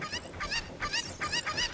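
Cucco chickens in Zelda: Ocarina of Time let out a rapid series of loud, honking squawks, about half a dozen bursts in quick succession with no talk over them.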